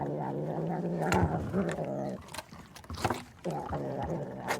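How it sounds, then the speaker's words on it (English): A cat purrs in a low, rumbling, continuous drone that breaks into several pulsing phrases, close and fairly quiet. "it's the sound of a purring cat"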